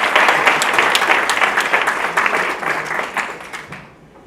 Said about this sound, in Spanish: Les pido un fuerte aplauso para ellos